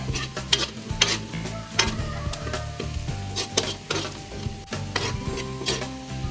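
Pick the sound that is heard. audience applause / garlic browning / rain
garlic browning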